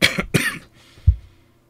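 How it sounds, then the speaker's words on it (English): Two harsh coughs in quick succession, close to the microphone, followed by a short pause and a soft throat-clearing grunt. "about 45 to 50 stops for me to cough"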